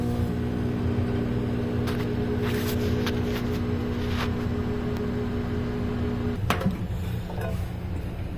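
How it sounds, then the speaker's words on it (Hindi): Microwave-style oven running while chocolate melts inside, a constant low electrical hum with faint rattles and clicks near the end, steady and close with no talking. "तो अभी इसको ओवन में रख के थोड़ी देर ओवन लगा के इसको ना मेल्ट करना।"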